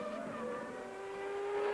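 Gerhard Berger's Formula 1 car at the 1994 French Grand Prix at Magny-Cours, a high engine whine holding a steady pitch that slides slightly downward, heard from a distance in a sustained blur of race noise.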